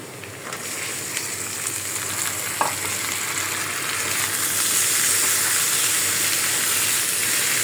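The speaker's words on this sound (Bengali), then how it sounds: "এখন আমি শুটকি দিয়ে দিব" Dried fish (shutki) sizzles in a pan with fried onion, a steady close frying hiss with a single clack of the spoon as it is stirred, growing slightly louder toward the end.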